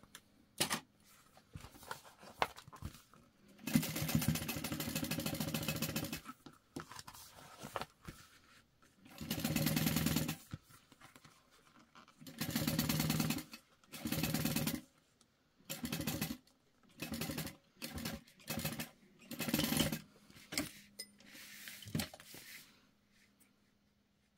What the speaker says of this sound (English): we're folding the seam allowance to the exterior, and we're going to top stitch all the way across